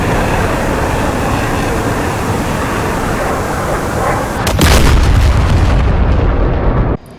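An F/A-18's bomb strikes the ground in DCS, a sudden heavy blast that cuts through a steady jet roar, followed by a deep rumbling tail before the sound stops abruptly.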